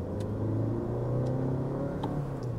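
A Lexus hybrid car's engine revs steadily as the accelerator is pressed, a moderate, continuous droning hum with a slowly rising pitch, heard from inside the cabin with no talk.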